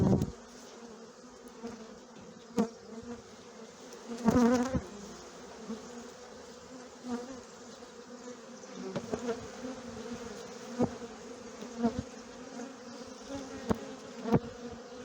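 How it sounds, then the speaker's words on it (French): Honeybees (young nurse bees) buzz in a steady, faint hum as they are added to a queen-mating nucleus hive, with a few louder bursts as individual bees fly close past. "Je vais maintenant rajouter des abeilles au nucléi de fécondation."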